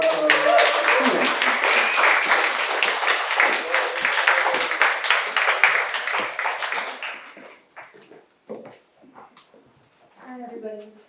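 An audience at a book prize evening at an arts centre applauds to welcome an author: thick, sustained clapping that thins into scattered claps before a voice begins speaking.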